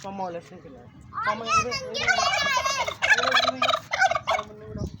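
A group of turkeys gobbles while eating jalebi and samosa, their bursts rising and overlapping loudly and close, mixed with children's voices and chatter.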